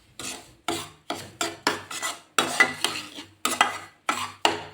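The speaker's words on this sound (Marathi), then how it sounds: "आपला जो शिरा आहे व्यवस्थित भाजून घेते" A spoon stirs and scrapes semolina roasting in a pan for sheera, making about ten rhythmic gritty scraping strokes, loud and close, each one sharp at the start and fading out.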